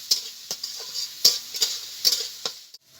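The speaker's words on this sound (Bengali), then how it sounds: "দিয়ে আমি ভালো করে এটাকে ভেজে নেব" Chicken frying in a pan with salt, giving a steady soft sizzle broken by a series of sharp spatters and utensil scrapes at an irregular pace, close and fairly quiet.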